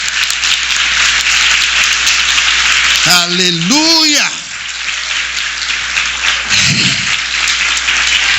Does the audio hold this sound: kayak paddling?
no